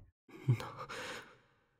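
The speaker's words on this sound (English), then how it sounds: "I could hear what sounded like panting of a beast behind me." A beast panting close behind, a single heavy, breathy exhalation rising sharply then trailing off over about a second, loud and near with no other sound.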